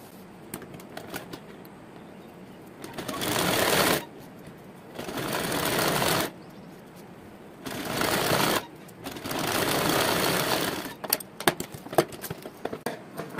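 A sewing machine stitches a salwar, several close bursts of rapid whirring lasting one to three seconds, separated by quiet pauses and followed by light handling clicks.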